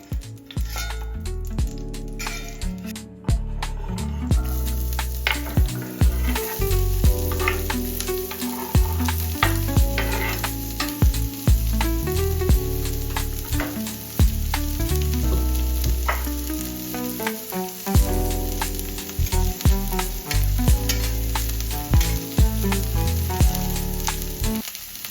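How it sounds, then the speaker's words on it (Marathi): Onion fries in a pan for sev bhaji, a loud continuous sizzle with busy stirring scrapes and clinks throughout. "कांदा भाजून घेऊया."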